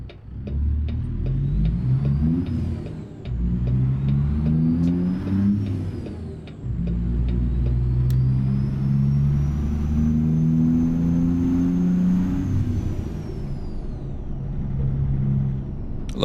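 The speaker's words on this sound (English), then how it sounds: "I love the whistle on this engine." Kenworth T909 with a Cummins engine in American Truck Simulator, a loud droning engine with a rising and falling turbo whistle as it accelerates through gears, a brief dip between shifts, no talking.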